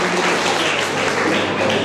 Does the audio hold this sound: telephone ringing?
no